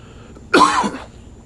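A single harsh cough bursts out close by, lasting about half a second, with quiet before and after.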